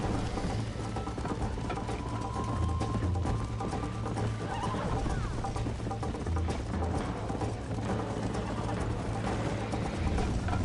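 A horse whinnies in the video game Red Dead Redemption over a busy, continuous backdrop of galloping hoofbeats and ambient noise, steady and fairly loud throughout.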